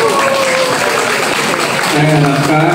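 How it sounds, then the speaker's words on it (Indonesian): Audience applause at a PWI Solo press association event, dense steady clapping from a crowd throughout, with some voices mixed in underneath. "Tepuk tangan untuk PWI."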